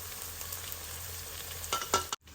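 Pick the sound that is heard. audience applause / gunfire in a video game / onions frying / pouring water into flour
onions frying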